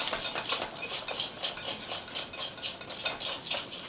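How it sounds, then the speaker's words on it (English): Whisking brown sugar into butter in a bowl, a quick rhythmic series of light metallic taps and scrapes at about two strokes per second, close and moderately quiet. "Whisk it all together so the brown sugar is nicely whisked up with the butter."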